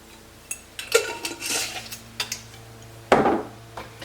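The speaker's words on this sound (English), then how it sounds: "I'm going to stir that all in." A spoon scrapes and taps around a pan while a cheese mixture melts, producing scattered metallic clinks and scrapes with quiet pauses and a louder clatter near the end.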